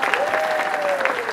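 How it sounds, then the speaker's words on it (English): An Orlando crowd applauds Peggy Smith, performing as Paula Deen, with a dense, continuous wash of clapping and a sustained tonal sound running through the middle of the brief burst. "Give her a round of applause"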